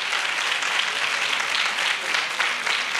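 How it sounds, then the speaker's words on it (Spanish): Audience applause at a flamenco event in a tablao, a dense, steady wash of many hands clapping for about three seconds with no voices over it. "y cómo no, a nuestro Kevin, que lo tenemos que recibir con un fortísimo aplauso"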